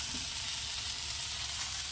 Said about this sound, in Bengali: একদিকে ভাত বসিয়েছি আর একদিকে বরবটি আলু ভাজা হচ্ছে